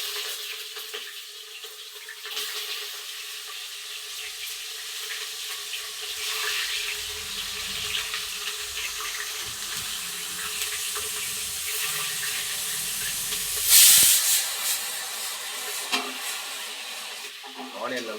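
Onions dropped into hot oil with fennel seeds for Tamil vangi bath, giving a steady broadband frying sizzle with occasional stirring scrapes and one louder burst near the end, close and continuous without talk.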